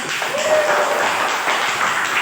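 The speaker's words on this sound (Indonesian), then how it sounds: "Oke, tepuk tangan semuanya." Applause from a group at the close of a teaching-practice class meeting, a dense, steady patter holding at an even level throughout.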